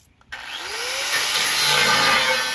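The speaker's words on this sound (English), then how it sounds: "They probably demonetized this video for how dangerous this grinder is." An angle grinder runs steadily after a short quiet start, a loud continuous whine with broadband hiss that rises slightly and holds, alone without talk.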